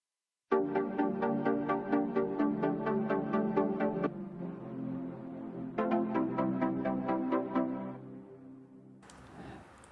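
Layered synth pad and chords from a song verse, sustained soft tones with gently pulsing repeated attacks, a pause midway before the chords return, fading out at the end; moderately quiet with no voices.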